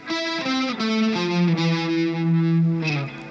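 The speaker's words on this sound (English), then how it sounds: "I use a bit of chorus and a little bit of distortion as well. Actually, a lot of distortion." Electric guitar on the bridge pickup with chorus and heavy distortion plays a riff, a loud sequence of sustained, stepping notes alone, without voices.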